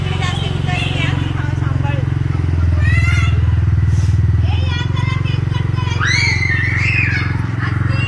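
A newly bought scooter idles and putters nearby as a man practises riding it with help, a steady close engine hum that swells slightly in the middle, under children's voices and family chatter.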